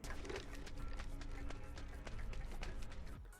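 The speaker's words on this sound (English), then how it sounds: "or Bangalore's ammunition clinking and clanging" Bangalore's ammunition clinking and clanging as she walks in Apex Legends, a steady run of light metallic taps and rattles keeping pace with quick footsteps, close and fairly continuous.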